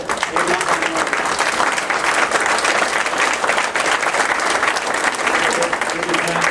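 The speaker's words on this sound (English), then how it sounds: "I'd like a round of applause for them" Loud, dense applause from the audience at a school board meeting honors students, continuous throughout, with a few voices rising within it.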